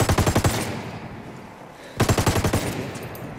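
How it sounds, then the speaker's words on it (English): Automatic machine gun fire in a video game, heard as two close, loud rapid bursts of about half a second each, separated by a short ringing lull. "I'm under heavy fire."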